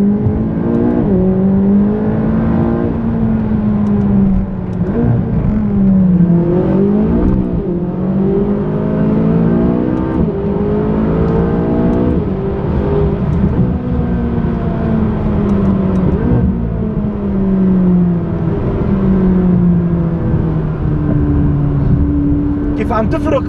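A McLaren 570S sports car engine revs and climbs repeatedly through the gears on a wet road in Portugal, a loud close rising and falling drone that lasts throughout, with someone talking over it.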